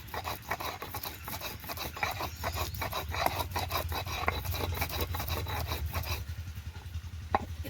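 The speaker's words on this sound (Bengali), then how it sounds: "প্রথমে আমি আদাটা শিলে ফেলে ভালো করে থেতো করে নিচ্ছি, এবার একটু বেটে নেব।" Ginger is crushed and ground on a traditional flat grinding stone with a stone pestle, a steady close scraping and rubbing with repeated gritty strokes that stops near the end.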